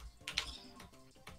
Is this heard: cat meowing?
no